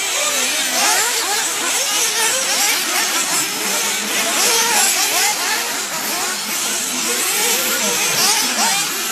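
Race cars roar past the pit stands at the Grand Prix de Montpellier, a dense, continuous engine drone with overlapping revs from several cars, loud and steady throughout.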